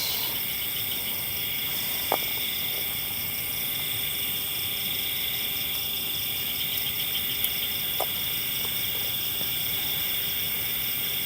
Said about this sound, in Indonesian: Suasana malam ya temen, tuh suara jangkrik